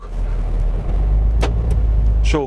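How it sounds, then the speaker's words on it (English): Central locking on a Peugeot Traveller van clicks shut on its own as it starts moving: a quick sharp click over the steady, loud road and engine rumble of the cabin. "I will start moving and you will hear how the central locking automatically closed"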